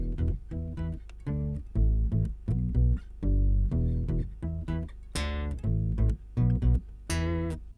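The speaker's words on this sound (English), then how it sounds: "I am also using an Octave OC5 for the bass sound on my guitar." Guitar run through an Octave OC5 octave pedal for a bass-like tone, heard as a steady rhythmic line of deep, punchy plucked notes with occasional bright string slaps, close and with no talk.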